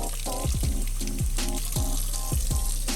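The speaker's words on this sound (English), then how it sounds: "All right, just putting some hot water on the outside," Hot water is poured and splashes over a frozen Casio F-91W watch encased in ice, a close, gurgling stream with bubbly pulses repeating through the pour.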